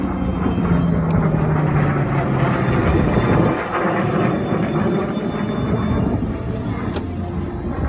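A World War II P-51 Mustang fighter flies past at an airshow, its engine a loud, dense roar with a falling pitch as it passes, fading slightly toward the end.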